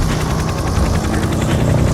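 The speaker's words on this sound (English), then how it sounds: "I'm having a bit of a problem with the helicopter." Helicopter noise, a steady loud droning roar with a constant low rumble and broadband whine filling the whole clip, with no voices.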